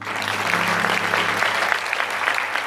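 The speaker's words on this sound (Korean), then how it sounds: "다시 한번 박수 한번" An audience applauds at a university worship and praise department open house, dense clapping from a crowd holding steady throughout, with a low hum beneath.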